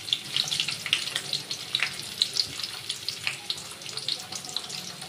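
Chopped onion pieces fry in a pan alongside ladyfinger. A steady, close crackling sizzle runs throughout, with small bursts of spattering and no voices.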